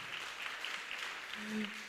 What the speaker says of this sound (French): Et docteur Charara, oui, applaudissons